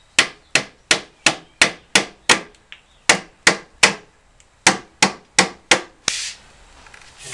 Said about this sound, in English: Just go ahead and tap it on the rest of the way